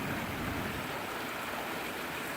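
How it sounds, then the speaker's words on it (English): Water from Gull Lake Dam rushing out of pipes into a river about two feet deep and ten feet across, a steady, loud, continuous roar heard alone without any voices. "Every ounce of that water is coming out of those pipes."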